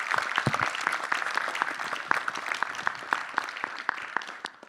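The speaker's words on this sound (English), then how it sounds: "A huge round of applause for a fantastic panel." Audience applause for a panel at the World Whisky Forum at the Cité du Vin, many hands clapping in a dense, steady burst that tapers off toward the end, with no talk over it.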